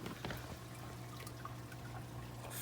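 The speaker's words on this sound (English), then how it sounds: "you just got the water crashing in here with the heater" Water crashes and trickles down into the first chamber of a 20-gallon aquarium sump beside the heater, a steady faint splashing flow over a low pump hum.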